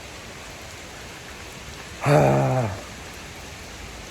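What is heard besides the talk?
heavy rain falling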